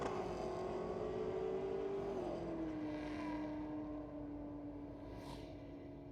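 A drag race car at a Ford versus Holden night makes its run, its engine whining upward, dropping sharply at the first-to-second shift, then droning on more distantly as it fades down the strip.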